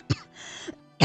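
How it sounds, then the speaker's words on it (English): A person coughs three times in about a second: a short burst, a softer one midway, then a loud cough at the end, each close and sharp with no speech around them. "I have a bit of a cough"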